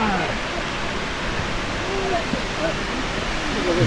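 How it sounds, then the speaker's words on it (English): A big waterfall in Flåm, Norway roars as a loud, steady broadband rush that fills the whole stretch, constant and close, with no talk over it. "Well, that is a big waterfall. Too noisy here."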